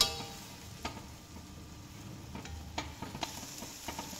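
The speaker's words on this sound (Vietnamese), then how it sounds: "mình đảo cùng để cho cà chua của mình nó nhuyễn ra, nó quyện với cái phần thịt băm này" Sizzling in a pan with scraping, stirring strokes of minced meat and tomato, a steady fry hiss with intermittent utensil clicks.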